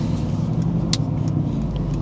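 A car backing slowly into a home driveway after a dealership visit, its engine a steady close, low hum throughout with one brief higher click or squeak in the middle and no talking.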